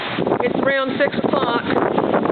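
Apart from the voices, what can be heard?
gust of wind during Hurricane Sandy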